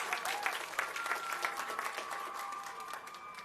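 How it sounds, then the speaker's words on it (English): A commencement audience applauds a graduate receiving a master's degree in speech pathology, a dense, steady wash of clapping that fills the hall for the whole span without letting up. "Please give her a round of applause."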